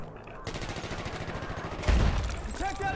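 Gunfire in the World War One shooter game Battlefield 1, a dense rapid fusillade of shots over a continuous battle din, with a heavy low blast near the middle.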